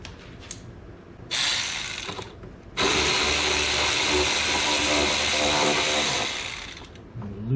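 Ratchet fitted with a 5/16 socket loosening a clamp on a 2006 Dodge Ram 1500, a short burst of rapid clicking followed after a pause by a longer, louder run of close-up ratcheting that fades at the end.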